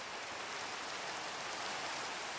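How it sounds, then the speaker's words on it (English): Rain falling in the video game Minecraft, a steady, dense hiss of rainfall with no variation, moderately loud and alone. "because it's raining"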